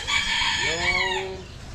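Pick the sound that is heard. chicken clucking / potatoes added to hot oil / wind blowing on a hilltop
chicken clucking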